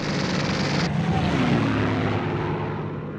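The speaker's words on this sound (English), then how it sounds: "The Allies sent in squadrons of Typhoon aircraft equipped with machine guns" A Typhoon fighter aircraft passes overhead with a loud roaring engine drone. The tone drops and slowly fades as it moves away.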